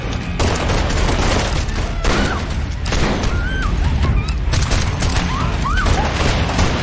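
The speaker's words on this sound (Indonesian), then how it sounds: "Lalu terjadilah baku tembak di antara mereka." A film gunfight between a terrorist group, a drug dealer and undercover DEA agents: dense bursts of gunfire and explosive booms fill the scene continuously, with crashes and a few brief shouts mixed into the loud, chaotic battle.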